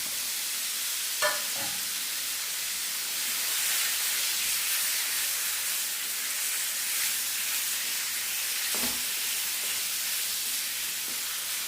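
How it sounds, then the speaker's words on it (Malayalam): Chicken sautés in a pan at a restaurant-style curry stove, giving a soft continuous hiss and sizzle with a couple of brief stirring knocks. "ചിക്കനിട്ടിട്ട് നല്ലപോലെ ഒന്ന് വഴറ്റട്ടെ."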